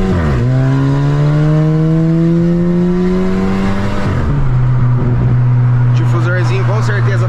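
Volkswagen Jetta with a remapped 1.4 TSI engine revving loudly and close, a long rising drone that drops sharply and then settles into a steady high hum, with no talk over it.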